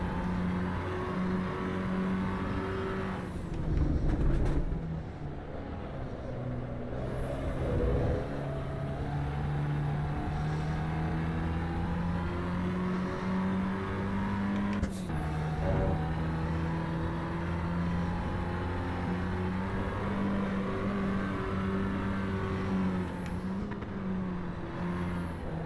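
A racing car in Assetto Corsa Evo, its engine droning loudly and continuously with rising and falling revs, gear changes heard as brief dips and jumps in pitch, and a sharp shift-like blip midway.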